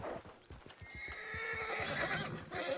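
A horse in the RedM game neighs loudly while its hooves clip-clop in a steady rhythm underneath, the whinny rising and sustained over the second half.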